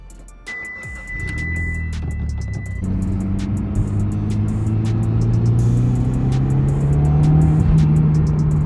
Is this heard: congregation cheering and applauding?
no